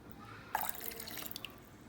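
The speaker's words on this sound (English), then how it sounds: "Here goes the water." About a small cup of water is poured into a blender jar while making dahi vada batter: a quiet room tone, then a sudden splashing pour with a few bright drips, close and soft.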